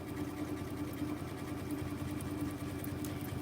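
Domestic sewing machine stitching a decorative pattern, a steady fast mechanical whirring hum at moderate level, continuous and alone without talk.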